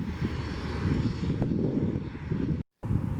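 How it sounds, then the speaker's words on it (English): A light general-aviation plane flies near Rocky Mountain Metropolitan Airport in Colorado, its engine a steady broad drone close by with a brief cut partway through. "While general aviation continued flying from Rocky Mountain Metropolitan Airport, 2 firefighting planes were on standby awaiting orders."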